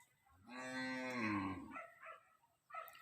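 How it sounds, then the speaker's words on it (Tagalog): A single long, drawn-out bleating call from a goat, loud and close, followed by a few shorter, fainter calls. "Puntahan natin yung ating alagang kambing guys."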